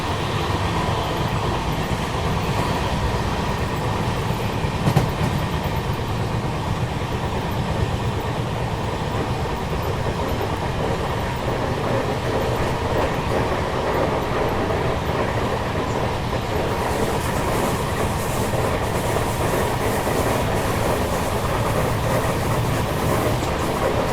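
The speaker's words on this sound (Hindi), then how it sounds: "तो अभी कुछ ही देर में अपनी ट्रेन विकाराबाद रेलवे स्टेशन पहुंचेगी" Steady rumble from inside the Pune Hyderabad Shatabdi Express running on tracks, a continuous low drone with faint rhythmic wheel clatter and no voices.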